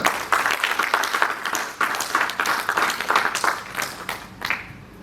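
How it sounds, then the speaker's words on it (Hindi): Loud, dense applause from an audience after a Hindi poetry recitation, a steady wash of many hands clapping close by that carries on for several seconds before thinning slightly at the end. "जोरदार तालियां भाई, जोरदार।"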